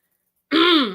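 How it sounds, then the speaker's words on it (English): A single short, close throat clearing after silence, a brief rough voiced rasp. "clear my throat"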